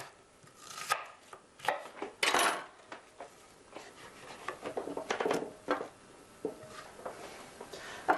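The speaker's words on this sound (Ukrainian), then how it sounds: "Цибуля. Дві невеличкі головки буде достатньо. Теж можна такими кільцями." A knife chops small onions into rings on a cutting board, with a quick, uneven run of close, crisp knocks and a few louder strikes, and no talking.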